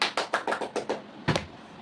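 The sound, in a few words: people clapping hands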